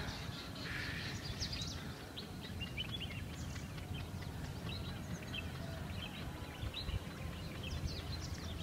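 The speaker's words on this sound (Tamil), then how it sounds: "அப்போ தான் அந்த பறவைங்க சவுண்டு நேச்சர் சவுண்டில் நீங்கள் என்ஜாய் பண்ண முடியும்" Faint, scattered birdsong on the wooded slopes of Obli Raya Malai, a temple mountain in Dharmapuri, with thin distant chirps over a steady outdoor hiss and no talking.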